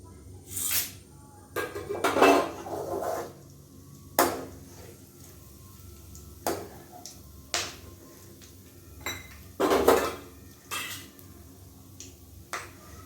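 A pan tempering of mustard seeds, urad dal, chana dal, dried red chillies and curry leaves is stirred in a kitchen, giving a dozen or so sharp scrapes and clinks at an uneven pace, separated by quiet gaps.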